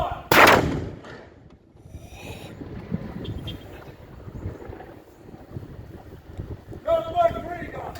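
A ceremonial cannon fires one loud, sharp blast during a numbered gun salute in Guernsey, followed by a long rumbling echo and wind noise outdoors, with faint voices in the background.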